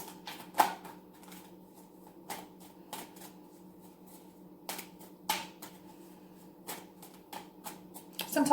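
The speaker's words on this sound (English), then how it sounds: "it takes me a little longer than usual to shuffle for the clarifiers" Tarot cards being shuffled by hand in a quiet room, giving short crisp riffling bursts at irregular intervals over a faint steady hum.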